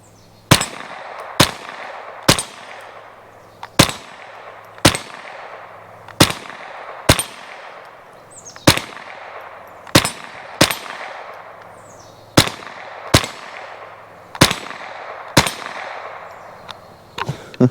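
Sharp, loud rifle shots from a Marlin Model 60 fired free-hand at a 25-yard target, about fifteen cracks spaced roughly a second apart with a few quicker doubles, each followed by a short ringing decay.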